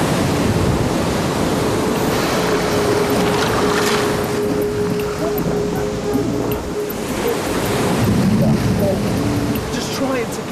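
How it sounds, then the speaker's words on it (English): Heavy ocean surf pounds and crashes continuously while surfers wade out, a dense roaring wash of breaking waves mixed with wind buffeting the microphone and a voice talking over it. "But you have to get through the pounding waves first"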